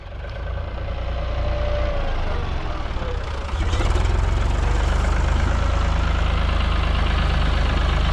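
A heavy Ford tractor engine idles with a steady low rumble that grows louder partway through, with some faint background noise over it.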